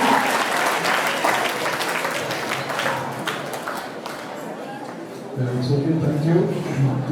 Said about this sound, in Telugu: చెస్ నెట్వర్క్ ప్రెసిడెంట్ గారి గట్టిగా చప్పట్లతో వారిని ఆహ్వానిద్దాం